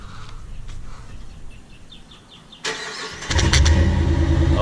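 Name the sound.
841hp Corvette engine revving with duck calls fitted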